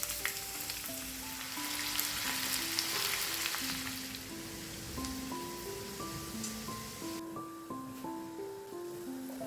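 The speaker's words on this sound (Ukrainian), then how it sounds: "Дрібно нарізаємо одну цибулину і додаємо її до сала і також обсмажуємо до золотистого кольору." Finely chopped onion fries in rendered pork fat (salo) for a traditional Ukrainian soup, a constant crackling sizzle in the background while soft music plays over it and nobody speaks.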